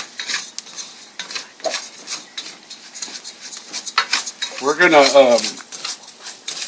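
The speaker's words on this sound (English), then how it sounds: "Let me stir around this rice a little bit." Metal utensil scrapes and clinks against a frying pan in irregular strokes while stirring rice for Mexican rice, over a light sizzle, with a brief voice murmuring partway through.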